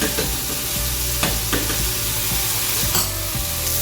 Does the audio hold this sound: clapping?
no